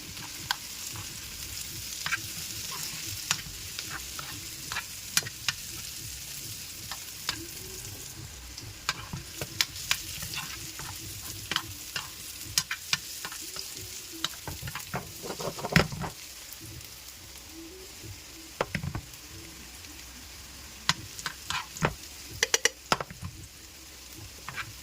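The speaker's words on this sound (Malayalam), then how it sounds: "എനിക്ക് ഈ സവാള ഇളക്കി കൊടുക്കുമ്പോൾ ഇത് സവാള വീഴുമ്പോൾ ഒരു മണമുണ്ടല്ലോ" Sliced onions frying in oil in a pan are stirred, giving a steady sizzle with frequent sharp scrapes and clacks of the spoon against the pan, close and fairly quiet, with no talking.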